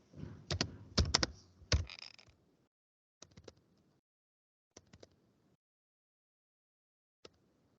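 Typing on a computer keyboard while entering Linux commands such as touch, mkdir and cd: a dense burst of clicky keystrokes, then a few sparse, isolated key presses with silence between them.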